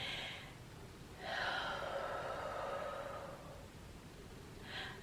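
Slow, deep breaths: a soft airy exhale runs for about two seconds in the middle, with shorter faint breaths at the start and end, close and quiet with no talking.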